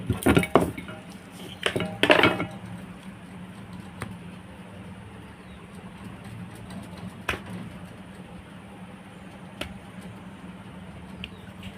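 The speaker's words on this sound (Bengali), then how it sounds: "আমি পাতলা করে বেলে নিয়েছি, নিয়ে এবার আমি কেটে নিচ্ছি চাকু দিয়ে।" A knife cuts thinly rolled dough for crisp khasta goja, giving a few sharp scraping taps close by at first, then faint sparse clicks against a quiet kitchen background.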